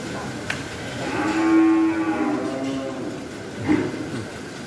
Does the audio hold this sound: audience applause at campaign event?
no